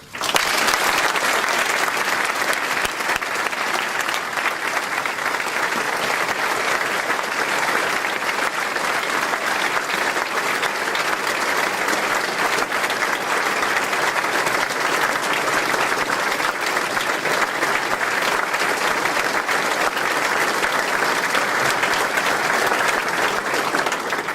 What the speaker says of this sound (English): I ask for a warm amount of applause for a man who has never done anything but praise other people.